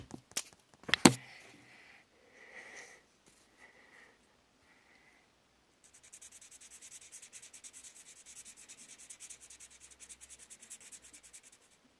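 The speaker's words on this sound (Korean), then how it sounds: "이제 색칠해 줄게요." Coloring on paper: a few brief knocks and soft rubs early on, then a quiet, steady run of rhythmic scratching strokes for the last half, close and faint.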